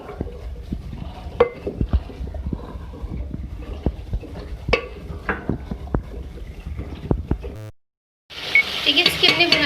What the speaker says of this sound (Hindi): आलू डालने के बाद हम इसके साथ इसकी भुनाई करेंगे